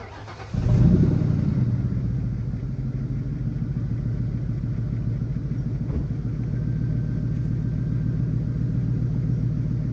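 A Ford Mustang with a 4.6 V8 cranks and catches, then settles into a steady, close, rumbling idle that carries on alone with no talk.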